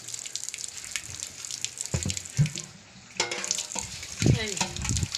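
Water being poured out and splashing in an outdoor village kitchen while fish is prepared, a steady watery rush with louder gushes near the middle and end.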